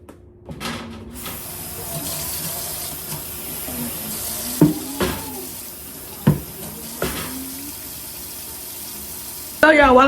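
A kitchen tap runs steadily as dishes are rinsed in a sink, with several clinks and knocks of crockery over the continuous flow and brief bursts of talk partway through.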